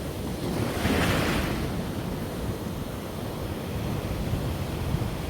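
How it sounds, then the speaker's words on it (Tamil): Strong sea waves pound the shore after a storm, a steady loud wash of surf with one surge breaking near the start, mixed with gusty wind rumbling on the microphone. "கடலுண்ட அடி வந்து கொஞ்சம் பலமாக இருக்குது பாருங்கள்"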